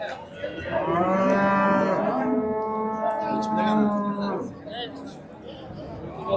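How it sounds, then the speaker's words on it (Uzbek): Long, loud cow moos, two drawn-out calls back to back, over a busy outdoor hubbub of voices and livestock noise at the Karshi livestock market in Uzbekistan. "Shuni kasbidan keladi sigirlar"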